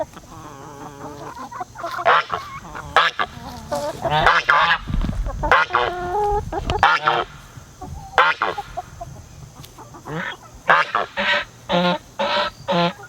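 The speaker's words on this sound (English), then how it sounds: "We got 2 honking geese now." Loud, brassy goose honks repeat close by, overlapping in bursts and calls, with a person talking in between.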